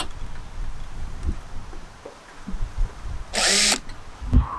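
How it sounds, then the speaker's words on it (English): A power drill cuts a pilot hole for an RV skylight in a skoolie bus conversion. It gives one short, loud burst of whirring near the end, set against quiet background noise and a few light knocks. "And we'll drill our pilot holes the same way we did the other one."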